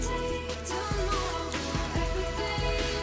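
The Tetris video game song plays at normal speed, a dense electronic tune with a bass line pulsing in regular beats, steady and fairly loud with no voices over it.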